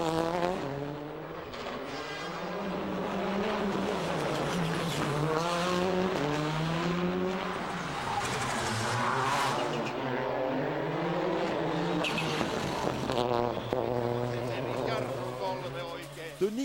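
WRC rally cars from the 2005 Monte Carlo Rally race through small Provençal villages, their engines revving and shifting loudly and continuously, rising and falling as they pass, with a voice talking over them throughout.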